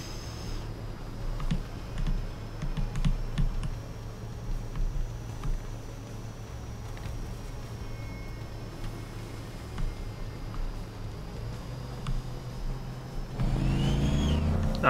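Fast light vehicle engine in the War Thunder tank game, a steady moderate whirring drone with small surges in revs, growing louder and heavier near the end.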